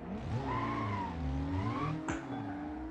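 Powerful manual four-wheel-drive rally car in BeamNG.Drive braking and skidding, engine tone sliding up and down under a tire squeal, with a sharp impact click near the end, loud and close.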